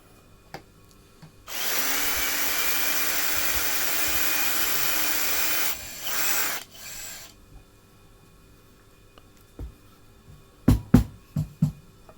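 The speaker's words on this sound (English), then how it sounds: "When you drill it through the neck block" A power drill whirs loudly for about four seconds as it bores through the wooden neck block of a sassafras acoustic guitar, stops, gives a short second burst, then a few knocks and clatters follow in near silence.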